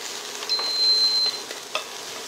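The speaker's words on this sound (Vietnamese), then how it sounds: "Rang cơm thì chúng ta đảo đều tay này, lửa cho vừa phải." Egg fried rice being stir-fried in a pan over moderate heat, with a steady sizzle and soft scraping stirs, close and fairly loud, and no talking.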